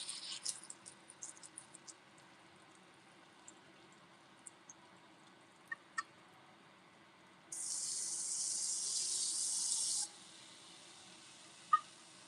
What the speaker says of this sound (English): I'm just washing my container out